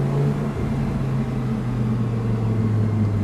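A convertible car's engine hums steadily at close range, with a low crackle from the exhaust breaking through. No one speaks.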